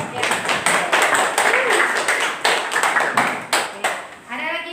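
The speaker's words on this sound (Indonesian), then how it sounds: "silakan kita kasih aplaus untuk kelompok yang" A group of people clapping in applause for a team in a classroom, steady close clapping for a few seconds, tapering at the end.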